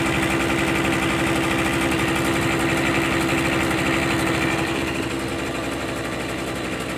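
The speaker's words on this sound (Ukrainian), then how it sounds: "скутер завівся на стартер" A Honda Dio scooter engine runs steadily just after starting on the electric starter, following a spark plug change and carburetor adjustments, with a loud, buzzing, high-revving drone that eases slightly toward the end.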